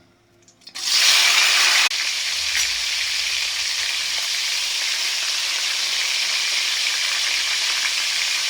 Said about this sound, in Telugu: ఎండు చేప మొక్కలు వేసుకుని వేపేసుకుందాం